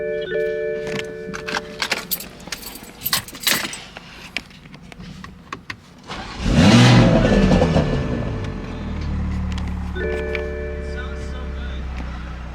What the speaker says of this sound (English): some kid just asked us to rev it